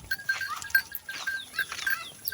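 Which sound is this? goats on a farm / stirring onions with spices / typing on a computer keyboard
goats on a farm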